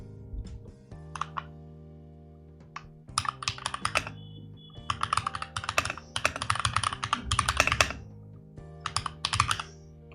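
Code being typed on a computer keyboard, close bursts of rapid key clicks separated by short pauses, some runs longer and denser than others.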